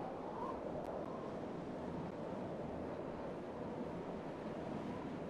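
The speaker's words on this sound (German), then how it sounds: "Der Wind heult ungewöhnlich laut." Wind howls steadily through a Final Fantasy XIV game scene, a constant broadband rush with a surf-like roar that holds even for the whole stretch with no voices.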